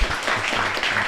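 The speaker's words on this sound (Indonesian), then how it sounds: "Wow, oke, tepuk tangan" Audience at a live show clapping in a steady, dense burst of applause, fairly close and even throughout.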